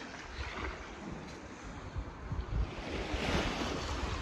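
Waves wash onto a beach at Sipalay, a continuous rushing surf that builds toward the end, mixed with wind buffeting the microphone.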